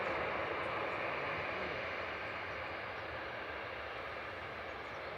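An EasyJet Airbus A320neo jet bound for Malta roars on the runway at Manchester Airport, a broad, steady engine rumble and hiss that fades slightly over the clip.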